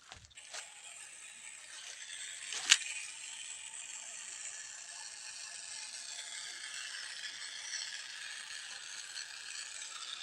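Manual sprayer working over lakatan banana plants, a steady hissing spray with a faint mechanical rattle and one sharp click partway through, continuous and fairly close with no talking.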